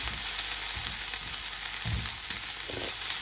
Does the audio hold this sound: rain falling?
no